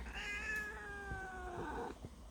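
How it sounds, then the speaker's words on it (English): A cat meows from outside a door, one drawn-out, wavering call with rising and falling pitch, fairly close and clear, with faint household thumps underneath. "Do you hear somebody outside the door? Is it really scary that there are cats out there?"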